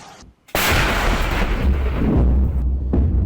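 Heavy gunfire and explosions in military footage from a border operation, a sudden loud blast after a brief near-silence, then a sustained roaring barrage with rumbling booms and a short dip before it resumes.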